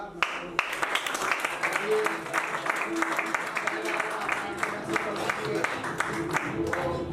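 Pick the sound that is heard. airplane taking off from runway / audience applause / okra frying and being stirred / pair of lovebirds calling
audience applause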